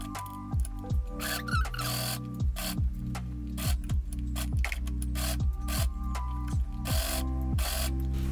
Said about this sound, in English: I sew the layers together all along the upper edge